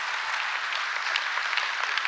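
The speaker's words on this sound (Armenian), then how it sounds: "արեք բարձր ծափարենք մեր Աստծուն" A church congregation bursts into steady applause, a dense, even wash of many hands clapping together at moderate loudness, heard alone without speech for the whole stretch.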